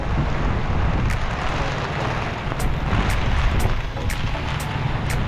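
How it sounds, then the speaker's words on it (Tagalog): Strong wind roars steadily and loudly, with gusty surges and a few sharp bursts over a constant low rumble. "Ayan, lakas ng hangin sa amin."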